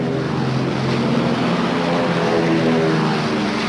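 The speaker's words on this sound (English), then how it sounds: "Many of these Marine planes taking off were destroyed by the Japanese fighters attacking the island" Several WWII Marine propeller planes take off at Midway island, a steady loud engine drone with a broad roar throughout, no voices.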